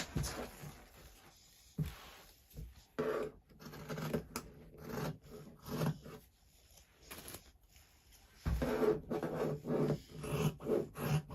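Scissors snip and slide through fabric while cutting out a hair bonnet piece, in close, quiet bursts of crisp cuts separated by pauses and light rustling.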